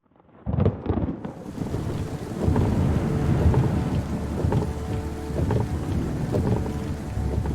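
Hurricane Katrina in 2005 on the Gulf Coast: heavy rain pours steadily and loud thunder rumbles close by, with wind buffeting the microphone throughout, starting after a brief near-silent moment.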